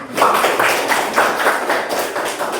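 Classroom applause from a small group of students during a science lesson, a brief patter of hand claps in loose, uneven bursts, fairly close and moderately loud.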